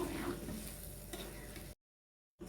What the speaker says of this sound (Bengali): এখন কিন্তু খুব সহজভাবে একটু সুন্দর করে নেড়ে চেড়ে দিতে হবে।